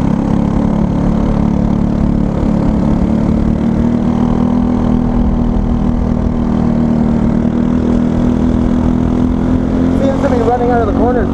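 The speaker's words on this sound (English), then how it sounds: "Cart doesn't quite like full throttle through there yet" A racing kart engine at Greg Moore Raceway, pushed toward full throttle, gives a steady low droning hum beneath ongoing spoken commentary.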